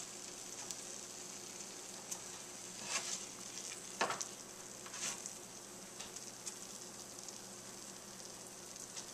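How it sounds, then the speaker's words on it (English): Bacon sizzles on Texas toast in a frying pan with a steady, quiet crackle, and a few sharper spits and pops stand out along the way. "We've got our bacon on top of our Texas toast in this frying pan."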